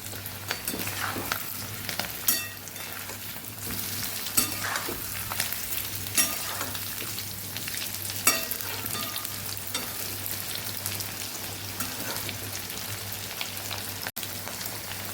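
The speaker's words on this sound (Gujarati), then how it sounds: "બટેકાને પહેલાં આપણે એકદમ સરસ કોટિંગ આવી જાય ત્યાં સુધી બટેકાને આપણે તેલની અંદર તળવાના છે" Potatoes fry in hot oil with a continuous bubbling sizzle, scattered crackles and pops rising over the steady hiss throughout.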